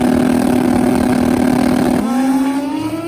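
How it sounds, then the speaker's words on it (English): A brand new turbocharged Suzuki Hayabusa drag bike roars loudly at a drag strip, a steady high-pitched engine drone that shifts pitch and eases slightly toward the end, with no talking. "alongside the brand new Turbo Hayabusa build of Steve Kyllingstad"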